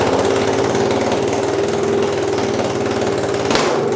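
A Honda CRF300L motorcycle engine starts and idles steadily nearby with a loud, throbbing low rumble, a brief clunk near the end.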